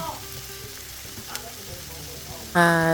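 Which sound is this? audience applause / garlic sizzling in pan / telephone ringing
garlic sizzling in pan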